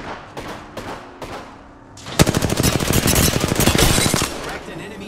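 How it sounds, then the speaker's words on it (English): Video game gunfire as enemies are engaged: a few sharp single shots, then a loud, sustained burst of rapid automatic fire lasting about two seconds, with a voice talking nearby. "Opening fire on the enemy."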